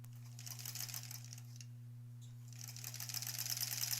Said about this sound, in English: Let's sew this.